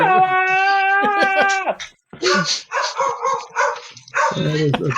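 Dogs bark and yip close by in several short bursts, with whimpering notes and a person talking in between the barks.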